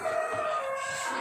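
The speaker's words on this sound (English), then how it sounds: "this dinosaur is not stopping shouting" A robotic animatronic dinosaur at an outdoor theme park lets out a loud, sustained mechanical roar with a droning, tonal quality, filling the whole short moment.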